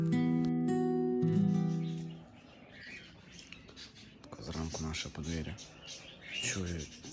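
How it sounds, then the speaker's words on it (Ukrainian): Birds chirp and tweet in short bursts from the trees in the early morning in Tuscany, Italy, with a louder sustained tone at the start and voices in the background. "Невже то якісь птахи там на деревах?"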